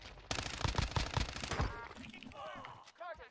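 Rapid bursts of LC10 submachine gun fire in Warzone, loud and close, clustering in a dense first-half volley before fading into quieter game effects and a brief voice.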